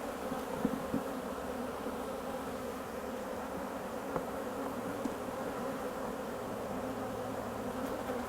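Honeybees swarm over hive frames as the frames settle down onto a mass of bees, giving a steady, dense buzzing hum that holds at an even level throughout, with no voices.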